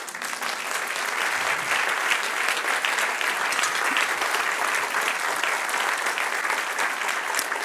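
A church congregation applauds steadily during a Spanish-language sermon, the broad, dense clapping sustained and fairly loud from start to finish with no break.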